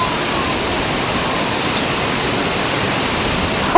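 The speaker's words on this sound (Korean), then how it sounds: "제주도에서도 유명한 절경을 자랑하는 옥도폭포" Okdo waterfall on Jeju Island, running after rain, pours in a loud, dense, unbroken roar heard up close and alone.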